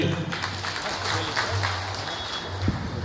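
Audience applause at a Kardiya Rajput community mass wedding ceremony in Bhavnagar district: a steady wash of clapping lasting a few seconds, with a low hum and some background voices mixed in.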